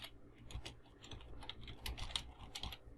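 Computer keyboard typing while a code comment is written, a steady run of light, uneven keystroke clicks close to the listener with no talking.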